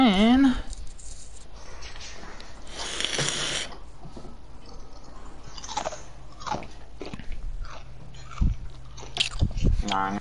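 Loud, close chewing and crunching come in irregular bursts while someone eats during a gaming session, with talk mixed in among the bites.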